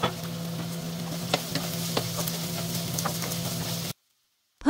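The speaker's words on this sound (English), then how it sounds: "Sauté the garlic and onion." Garlic and onion sauté in about three tablespoons of cooking oil in a medium pan for a honeycomb tripe curry, giving a steady close sizzle with scattered stirring clicks before a sudden cut to silence near the end.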